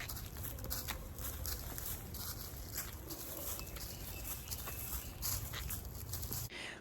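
A dog makes soft whimpers and pattering movements nearby after a walk outdoors, faint and intermittent against a steady background hiss, with no one talking.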